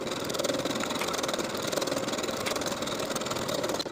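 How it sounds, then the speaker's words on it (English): A sewing machine runs continuously at steady speed, its fast rhythmic mechanical chatter close and even as it stitches seams with a narrow zigzag stitch, with no voices. "Now I'm going to sew both of those seams with a narrow zigzag stitch and a 5/8 inch seam allowance."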